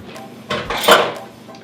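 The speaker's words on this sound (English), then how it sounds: "now we're going to add our pre-soaked nuts to the pitcher" Pre-soaked nuts are poured into a blender pitcher, making a short, close rattling clatter that swells to a peak and then fades.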